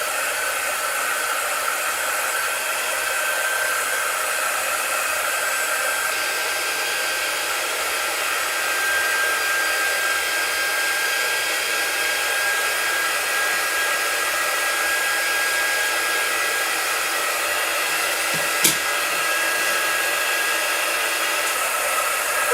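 A hair-dryer-style drying tool blows steadily on stain brushed onto a wooden pumpkin, a constant loud airy whoosh held close for the whole stretch with one brief click near the end and no talking.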